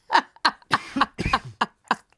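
A person gasps and then coughs out air in a quick series of short, sharp, breathy bursts, close and fairly loud, with brief pauses between them.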